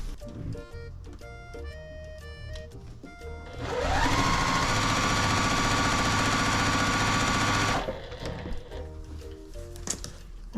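Sewing machine stitching quilt pieces together, a steady loud mechanical whir running for about four seconds in the middle, with quieter handling noises before and after.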